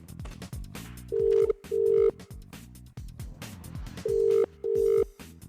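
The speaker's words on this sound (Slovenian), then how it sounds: "Svojo simpatijo si moral poklicati na stacionarni domači telefon" A landline home telephone rings in two pairs of steady electronic bursts, each pair separated by a pause, fairly close and clear over a low background of music.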